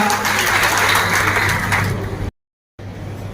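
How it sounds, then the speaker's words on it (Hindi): An audience at a steel industry association event in Hisar, Haryana claps loudly to welcome a minister, a dense, close burst of applause that cuts off abruptly and then resumes more faintly. "बहुत बहुत तालियों से जोरदार स्वागत कर दीजिए सर।"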